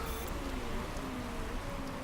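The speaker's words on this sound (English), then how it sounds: "Here comes the rain, though." Steady rain hiss from Motorsport Manager begins during a race at Monza, a dense, even wash of noise with a faint engine-like hum beneath.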